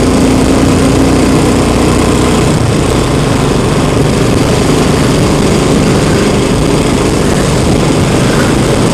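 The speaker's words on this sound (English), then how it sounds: "On the Royal Enfield Continental GT." A Royal Enfield Continental GT motorcycle engine drones loudly and continuously while riding, mixed with heavy wind rush, a close, steady roar with no pauses.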